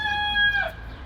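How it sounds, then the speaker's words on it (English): A rooster crows at sunrise on Terceira in the Azores, one drawn-out crow that rises and then fades, fairly close and clear over a low outdoor rumble. "and we have Zack Allen and a bunch of roosters"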